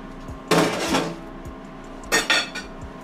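A big cutting board slid onto the top of a Power Air Fryer Oven, two clattering bursts of board scraping and knocking against metal, close and fairly loud, with small clinks between.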